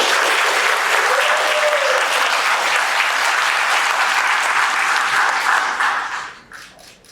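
Sustained, loud applause from an awards ceremony audience in North Carolina honoring a retiring public instruction employee, dense clapping that holds steady for about six seconds before tapering off.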